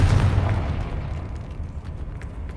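A Confringo fire spell explodes in Hogwarts Legacy, a loud booming blast with a heavy low rumble at the start that decays slowly into a lingering roar, with no voices.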